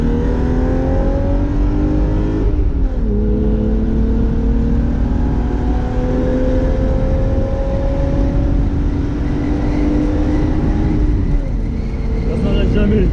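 BMW E30 325i with its six-cylinder engine accelerating hard through the gears, a loud, continuous rising engine note heard from inside the car, easing off at each shift before climbing again.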